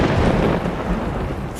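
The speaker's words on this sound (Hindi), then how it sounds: "अचानक तेज आवाज के साथ बिजली कड़की।" Thunder during a heavy rainstorm at night, a loud sustained rumbling crack that rolls on for under two seconds with rain noise beneath it.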